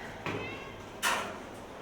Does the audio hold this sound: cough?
no